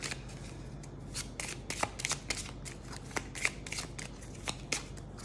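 Oracle cards shuffled by hand in a quick, continuous riffle of crisp papery flicks and slaps, close and steady for several seconds with no voices.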